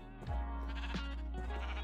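Sheep bleating in a video game, a few short bleats close by over a steady low in-game background drone, with no talking.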